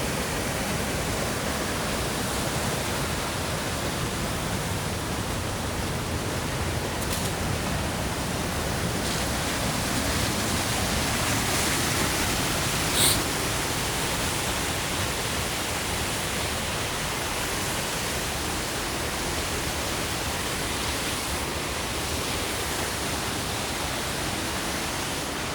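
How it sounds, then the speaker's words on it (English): A waterfall roars as a dense, constant wash of rushing water, loud and steady throughout with no talk. "here's the waterfall one last time"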